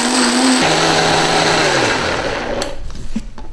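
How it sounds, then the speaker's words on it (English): A kitchen blender whirs loudly as it purées a dairy-free cheesy garlic sauce, its motor pitch dropping as the mixture thickens before it winds down near the end. "we'll blend it for about 30 seconds to a minute, depending on how good the blender is"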